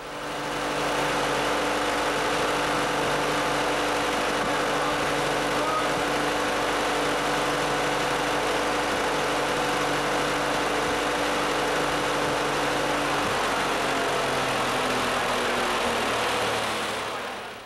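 An engine idles steadily at close range, a low rumbling hum with constant vibration that holds evenly throughout, no voices present.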